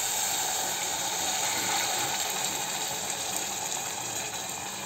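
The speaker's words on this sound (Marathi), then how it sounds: "आता हे पाणी आपण प्रमाणानुसार या भातामध्ये घालूया" Hot water pours steadily into a pot of wal papdi rice cooked with vegetables, a continuous close, loud splashing hiss with no talking.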